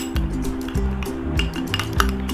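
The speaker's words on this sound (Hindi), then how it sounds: "इसको अच्छे से मिक्स कर लें आप" A spoon clinks and scrapes against a bowl while stirring a thick gram flour face pack paste, giving a steady rhythm of about four strokes, each with a clink and a soft squish, close and distinct.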